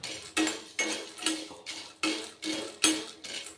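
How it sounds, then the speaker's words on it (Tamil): Peanuts are dry-roasted in a pan and stirred in a steady rhythm of about eight strokes. Each stroke gives a brief rattling clatter of nuts against metal, quiet and near, with no talk. "ஒரு கப் நிலக்கடலை எடுத்து பொன்னிறமாக அதை வறுத்துக்கலாம்"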